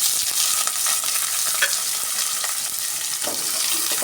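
Green chillies and onions fry in a pan with a steady, loud sizzle, broken by a few scraping stirs, with no one talking.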